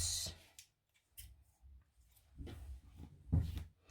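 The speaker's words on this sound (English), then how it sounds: "I need my scissors. They are here. We are going to cut." Several soft snips and crunching cuts of scissors through fabric, close and quiet, with brief pauses between strokes.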